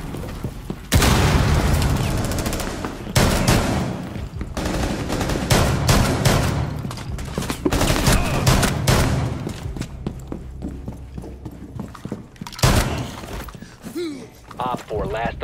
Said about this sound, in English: Let's start today with this shotgun ace by Slayborg.